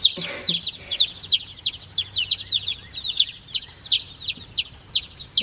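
Baby chicks that have just arrived chirp close by in a rapid, even series of high, shrill peeps. The chirping runs without a break from start to finish, with a faint low rustle beneath.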